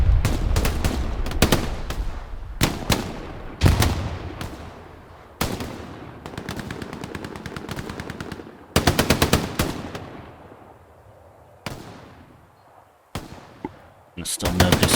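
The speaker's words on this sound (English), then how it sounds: "MG on the main road waiting for anyone trying to risk it." Machine gun fire from the video game Hell Let Loose, an MG covering a main road: repeated sharp bursts of rapid shots with pauses between, some loud and close, others fainter, with a voice talking over parts.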